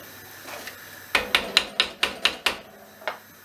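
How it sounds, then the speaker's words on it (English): Chilli con carne stirred in a pot, heard as a run of about seven sharp, evenly spaced knocks of a utensil against the pot, close and loud, with a couple of softer taps before and after. "Give that a good stir."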